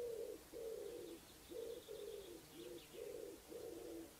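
Soft, low cooing of a dove repeats in a steady rhythm, with faint higher chirps of small birds in the distance.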